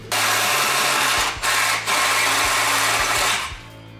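A power tool cuts a cutout into a panel, running loud and close with a steady buzzing whine, pausing briefly twice and winding down near the end.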